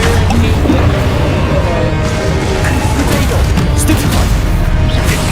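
A Confringo fire spell explodes in the Hogwarts Legacy video game, a loud, dense blast of booming, crashing noise that fills the whole moment without a break.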